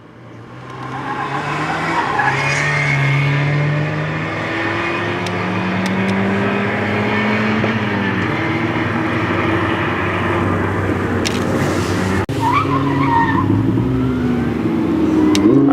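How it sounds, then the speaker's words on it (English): A little Mazda MX-5 sports car runs through a sprint course, its engine droning steadily and loudly throughout with shifting pitch as it passes, with a brief sharp burst near the end. "Little Mazda MX-5 rolling through."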